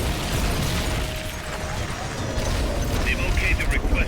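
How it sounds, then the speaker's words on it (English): Rocket launcher explosion in the video game Metal Gear Solid: Peace Walker, a dense low rumbling blast and roar that holds steady, with faint chirping game tones near the end. "Rocket launcher."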